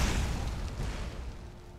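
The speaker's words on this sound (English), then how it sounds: "I could use fire bolts instead" A fire bolt spell cast in the video game Skyrim bursts out as a loud, close whoosh-boom right at the start, then fades into a rumbling, slowly dying roar.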